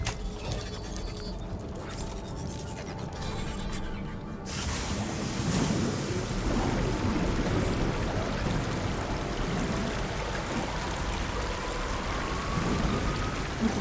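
Water rushes and splashes steadily in the open world of the video game Horizon Forbidden West, a continuous watery wash that grows fuller and louder partway through, with no voices.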